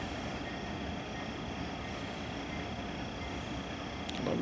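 A steady, broad rumbling roar of a short Carolina Piedmont freight train rolling past in Fountain Inn, South Carolina, constant and fairly loud throughout, with no voices.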